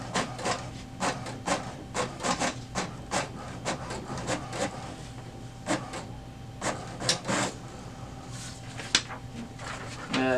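An HP DeskJet 2652 inkjet printer prints a status report. A steady run of rhythmic mechanical scraping and whirring fills the clip with repeated short clicks and thumps as the paper feeds. It is close and continuous, with no talk.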